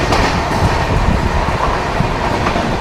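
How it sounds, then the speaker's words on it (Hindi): Vande Bharat Express departing a station on the Nizamuddin–Khajuraho run, a loud, continuous rumble of rolling rail cars with faint wheel clatter, close by and with no talk over it. "ये अपनी वंदे भारत एक्सप्रेस खड़ी हुई है खजुराहो, निजामुद्दीन खजुराहो, और ये डिपार्चर ले रही है यहाँ से अभी"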